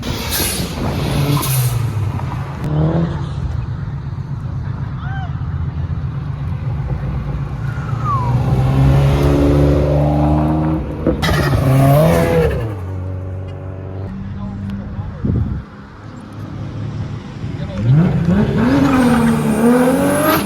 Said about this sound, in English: Rev it. Give it a rev.